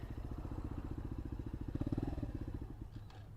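A motorcycle engine idles and revs steadily nearby during a riding lesson, a rapid even pulsing throb that swells slightly with throttle midway, then eases.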